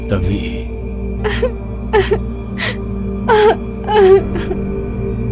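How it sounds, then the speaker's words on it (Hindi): Wailing, moaning cries of a girl as a horror-story sound effect, rising and falling in several drawn-out bursts over a steady background drone, with a brief spoken word near the start. "उसे किसी लड़की के रोने की आवाज सुनाई देने लगती है।"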